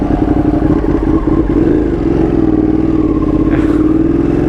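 A Ducati 959 Panigale motorcycle engine while riding on open roads, a loud, close, steady mid-pitched throb with slight rises in revs and some wind rush, with no talking.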